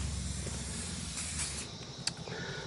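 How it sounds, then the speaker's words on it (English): A close, steady hiss of spray oil being sprayed onto a camp oven, one continuous burst ending with a faint clink. "the simple way of doing it is just a bit of spray oil"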